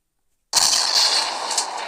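A tank gun in the Roblox WW2 Tank Simulator game fires after a moment of silence, one sudden loud blast that rolls into a sustained, noisy rumbling tail.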